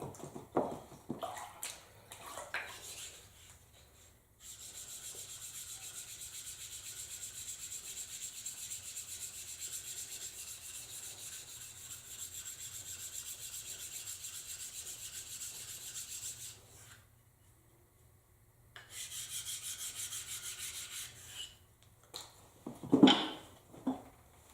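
An 8000 grit sharpening stone is wiped off by hand, a soft, steady rubbing swish running several seconds at a time, broken by a brief pause and a few faint knocks and handling sounds at the start and end.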